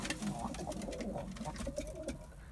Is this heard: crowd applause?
no